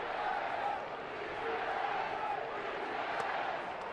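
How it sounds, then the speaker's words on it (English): A jammed Chase Field baseball crowd carries the Beat LA chant, a steady, dense roar of many voices with rhythmic chanting blended into broad crowd noise throughout. "The Beat LA chant makes its way around Chase Field here."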